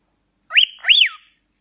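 A cockatiel whistles loudly and close up, two quick rising-and-falling whistled notes in a row, clear and alone with no talking.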